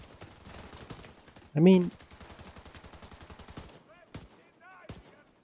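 Rapid, regular gunfire from a Desert Eagle pistol in The Division 2 pops in a fast rhythm at moderate loudness, with a brief louder burst partway through. Someone speaks briefly over the shots.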